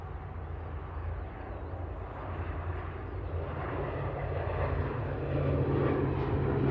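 An Aer Lingus airliner bound for Belfast rolling for takeoff at Manchester Airport: a distant, steady low engine rumble that slowly grows louder over several seconds, with no voices.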